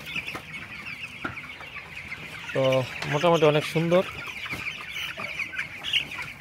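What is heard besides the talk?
chickens clucking in a poultry shed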